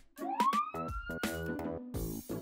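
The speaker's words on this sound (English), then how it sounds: "Police car." A police siren wails upward in pitch, mixed with a bright musical jingle of stabbed chords and bouncy notes.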